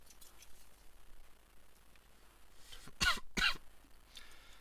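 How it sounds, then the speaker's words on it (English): A person coughs and clears their throat twice in quick succession, two short loud bursts standing out against a quiet room during a Hello Kitty and Zaku II gunpla model build. "I swear, I've got the most persistent cough recently."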